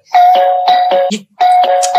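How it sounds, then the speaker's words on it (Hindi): A doorbell rings continuously with repeated chiming ding-dong tones in two bursts separated by a short gap, loud and close. "ये कौन बदतमीज है जो घंटी पे हाथ रख के भूल गया?"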